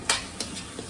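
Hot tempering sizzles in a kadai while Maggi is being made, a close steady frying hiss broken by three quick stirring scrapes.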